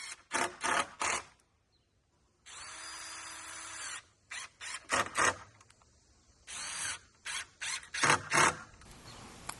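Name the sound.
screws being driven into a 2x4 to mount a solar light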